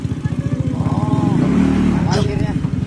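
A motorcycle engine rumbles close by on the road and passes with a steady throbbing beat, while people talk over it.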